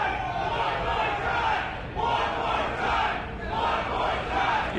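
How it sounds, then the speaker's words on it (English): A large wrestling crowd at an indoor rec-room event chants in a loud, steady rhythmic pattern, rising and falling in repeated waves. "You hear the crowd calling for it."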